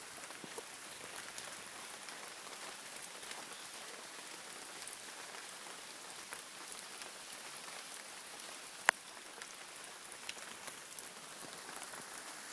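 Steady rain falls outdoors in the early wet season near kukui nut trees, a soft continuous patter with one sharper drip standing out and no voices.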